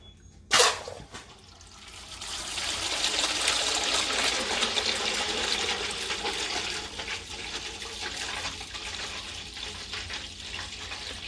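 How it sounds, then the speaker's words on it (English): Transmission fluid (ATF+4) drains from a 2007 Ram pickup during a clutch job. After a sharp knock, a steady, close splashing stream pours continuously, with no talking. "And I'm going to go ahead and drain transmission fluid while I'm down here."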